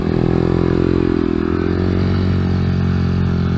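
A Honda Grom motorcycle runs on a kart track, its small engine droning loud and close with a steady buzzing tone that shifts slightly in pitch as it rides.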